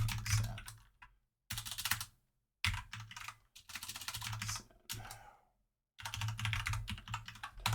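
A computer keyboard clatters close up in several quick bursts of typing separated by short silences, each burst a dense run of crisp key clicks with a low thump beneath.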